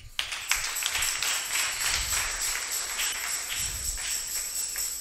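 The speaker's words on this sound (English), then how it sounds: "let's clap for them" A church congregation claps together in a dense, sustained patter of hands that fills the room evenly for several seconds, with no voices over it.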